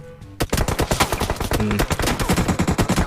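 Rapid automatic gunfire in the mobile shooter game PUBG Mobile, a loud close burst of evenly spaced shots that starts abruptly and keeps going without pause, with no voices.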